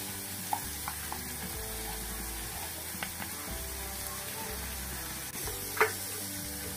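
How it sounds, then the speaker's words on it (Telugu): Salt, turmeric and garam masala fry in a paste while cooking carrot rasam, giving a faint, steady sizzle with a few soft stirring clicks and scrapes and no talking. "ఇప్పుడు కొంచెం గరం మసాలా లైట్గా వేగాలన్నమాట. ఈ పేస్ట్ అనేది వేగితే"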